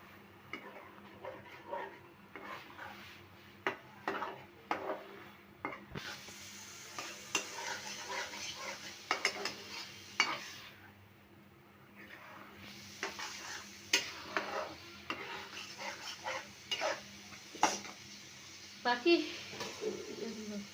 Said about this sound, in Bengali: মশলাটা কষানো শেষ ডাল দিয়ে দিতেছি